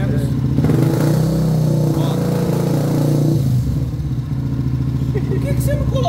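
A Honda CB 300F Twister fitted with a programmable Athlon ECU idles at about 1,500–1,600 rpm with the engine at 71 degrees, giving a steady, close, low mechanical drone whose tone shifts slightly partway through.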